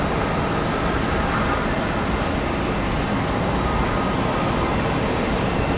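Spirit Airlines jet departing Charlotte Douglas International Airport bound for Fort Lauderdale, a steady broadband roar of jet engines that holds at an even, fairly loud level throughout.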